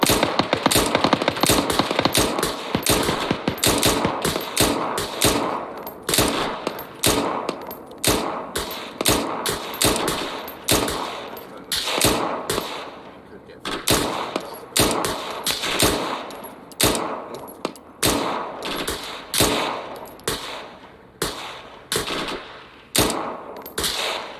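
Rapid automatic gunfire in an Arma 3 military simulation runs in dense bursts of loud shots for the whole stretch, with short gaps between volleys and no voices.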